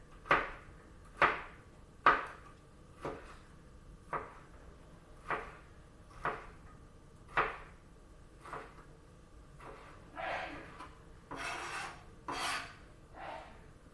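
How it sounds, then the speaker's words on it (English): Knife chopping a hot pepper into thin strips on a cutting board, about a dozen crisp, evenly spaced cuts close up, growing quicker and denser toward the end. "So nice thin strips and then finely diced from there."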